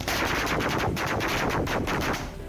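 Fireworks burst over a celebration at a home in Katihar, Bihar, in a loud, continuous barrage of rapid crackling bangs that rattle on without pause for the whole stretch.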